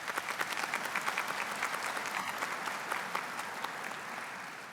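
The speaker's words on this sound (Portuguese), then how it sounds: "Eu gostaria que se aplaudisse a eles." A congregation at Holy Mass applauds steadily for several seconds, a dense wash of many hands clapping at a moderate, even level.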